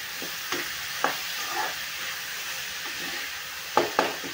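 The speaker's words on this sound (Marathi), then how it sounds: "आता आपल्याला मसूरला एकदा छान असा हलवून घ्यायचा आहे" Whole masoor lentils stirred in a pan for a dhaba-style dal, a soft continuous sizzle broken by several sharp scraping clacks of the spoon, close and fairly quiet.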